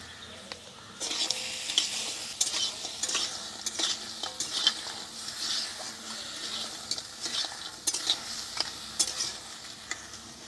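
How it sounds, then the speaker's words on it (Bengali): Crab and potato with salt and turmeric stir-fry in a pan with constant sizzling and repeated spatula scrapes and clinks in an irregular rhythm, close and clear. "একটু ভেজে নিই এইভাবে।"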